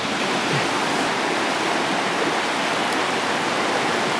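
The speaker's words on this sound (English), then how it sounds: "the water's moving pretty fast" Fast-moving river water near the Flathead Ranger Station, a dense, constant rushing roar, close and loud, with no voices and no break in its steady wash.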